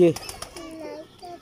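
Pigeons in a line-bred breeding pair give a brief, close coo at the start, followed by soft throaty murmurs and faint background chatter.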